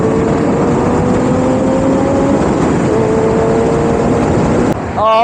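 A Sur Ron electric hyperbike runs flat out at full throttle, a steady loud whine with rising motor tones and heavy wind rush that drops away abruptly near the end.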